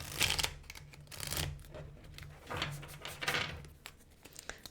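Tarot cards are shuffled and riffled by hand in several crisp, papery bursts up close, with light tapping and sliding between them and no voices.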